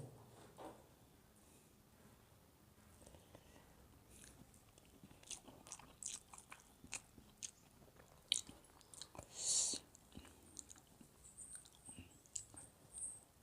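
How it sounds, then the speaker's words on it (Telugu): Someone eating chicken dum biryani, a Kanuma festival dish: close, soft chewing with occasional biting and crunchy bites, irregular and quiet, growing busier toward the end. "బిర్యానీ ఎలా ఉందో టేస్ట్ చేద్దాం."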